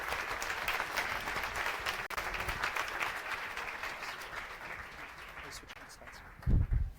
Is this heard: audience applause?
yes